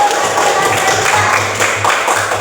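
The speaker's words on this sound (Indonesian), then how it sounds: "Tepuk tangan dulu" A class of children claps together in a classroom, steady dense applause filling the whole stretch with a faint voice underneath.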